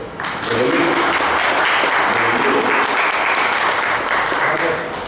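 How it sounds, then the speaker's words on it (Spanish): Loud, dense audience applause welcoming a speaker at a political talk, many hands clapping continuously and evenly for several seconds before easing at the end. "Bienvenido y le recibimos con un aplauso a José Luis González Córdoba."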